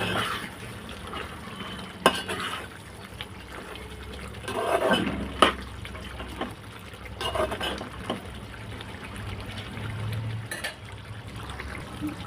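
Mutton gongura curry gets stirred through after a spoon of coriander powder goes in, giving a wet, sloshing churn with spoon knocks and scrapes against the pot at irregular moments, close and fairly quiet, with no talking.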